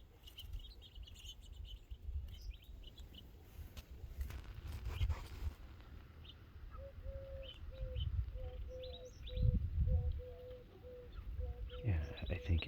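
Small wild birds feeding about six feet away chirp and call up close, with a steady repeated tone running through the middle of the clip, some rustling, and low background noise throughout.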